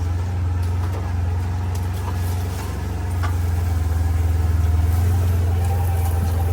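A vehicle driving across high brush toward the back of a property, its steady loud engine drone continuous throughout with faint rustling and scraping on top.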